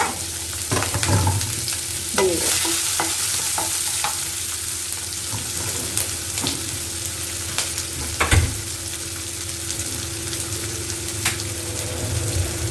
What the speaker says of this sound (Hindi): and now I am going to put my मसाला जो मैंने चॉप किया था, अनियंस एंड ग्रीन चिली, वो मैं इसमें डाल दूँगी